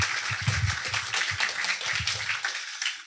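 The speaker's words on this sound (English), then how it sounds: "give him a round of applause" An audience claps together for a man recognized at a fellowship demo day event, a steady wash of applause lasting a few seconds before tapering off near the end.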